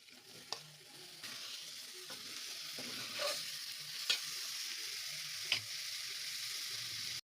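Chopped tomatoes sizzle steadily in a pan while a spoon scrapes and stirs them, with a few sharp clicks of the utensil against the metal; the frying hiss stays fairly even throughout and no one speaks.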